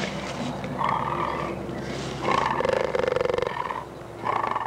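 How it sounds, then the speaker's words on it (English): A jaguar calls in a series of rough, throaty roars and grunts, several bursts rising and falling with short pauses between, fairly close and loud over a steady background hum. "This is the sound of the powerful jaguar."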